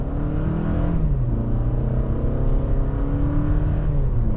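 A 2023 Toyota Camry SE AWD accelerating back up to speed, its engine note rising steadily and loud from inside the cabin, with no talking.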